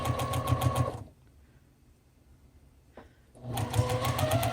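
A sewing machine stitches back and forth over a dart on a puppet fabric seam: a rapid mechanical whir for about a second, a quiet pause, then the whirring stitching resumes close and clear.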